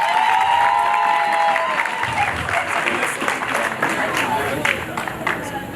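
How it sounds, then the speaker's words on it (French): Audience applause at an award presentation during a cooking contest, with a dense wave of clapping and some cheering that starts loud and slowly fades over several seconds. "Les applaudissements, s'il vous plaît."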